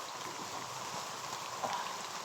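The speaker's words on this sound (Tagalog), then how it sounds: "babasa na sa ulan, tol. Ang lakas ng ulan." Heavy rain pours down steadily as a dense, even hiss that runs through the whole moment with no break.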